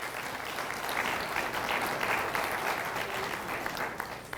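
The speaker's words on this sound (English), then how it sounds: "Give Helen a round of applause" An audience at the ECCB 2026-2031 launch event applauds, with steady sustained clapping from a crowd indoors that continues evenly throughout and fades slightly at the end.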